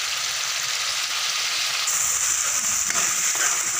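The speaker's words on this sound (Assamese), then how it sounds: "বিলাহীখিনি অলপ ভাজ খাওঁতে মই মটৰো দি দিছোঁ" Tomatoes and peas fry in a pan with a close, loud, continuous sizzle and hiss, and a faint stir partway through.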